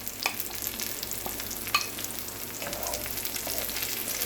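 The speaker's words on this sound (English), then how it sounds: "let's add in our green chilies, and we're just going to let these cook up with the onions" Green chilies cook with onions in hot oil, giving a steady low sizzle with a few light utensil clicks and stirring scrapes, heard close and fairly quiet with no talking.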